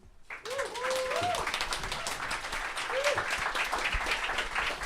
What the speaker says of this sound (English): Let's get a big round of applause for our three readers.